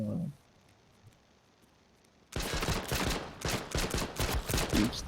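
Rapid bursts of gunfire from the battle royale game H1Z1 erupt after a quiet start, a loud dense volley of overlapping shots that continues to the end, with a brief voice at the very beginning.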